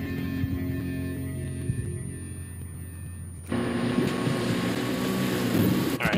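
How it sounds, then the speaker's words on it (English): A jet ski engine drones steadily in Far Cry 4 multiplayer, a continuous motor hum with wind and water noise that swells louder partway through, with no talk over it. "that guy's just trolling on a fucking jet ski"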